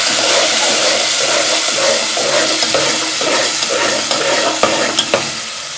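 Potato masala sizzles loudly in hot oil as it is stirred, a thick constant crackle broken by a few scraping knocks of the spoon near the end.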